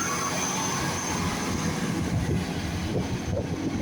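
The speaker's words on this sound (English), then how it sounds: "101 on a Great Western Railway service from Paddington to Exmouth." A Great Western Railway train passes at Teignmouth, on a Paddington to Exmouth service: a steady, loud rumble of wheels and carriages running close by throughout, with faint squeal and rail noise and no talk.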